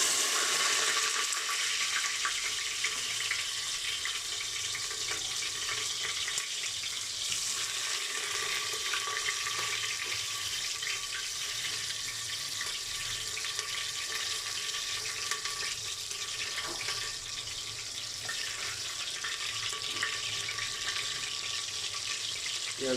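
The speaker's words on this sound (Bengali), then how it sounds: "এখন আমি এখান থেকে পেঁয়াজগুলা দিয়ে দেবো তেলের উপরে" Onions fry in hot oil alongside ginger paste, garlic paste, green chilli and bay leaf, giving off a steady, even sizzling hiss that lasts throughout.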